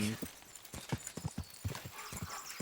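Hooves of a horse in the medieval game Kingdom Come: Deliverance 2 clop in an uneven walking rhythm, a string of close, distinct thuds with a brief snort or whinny near the start.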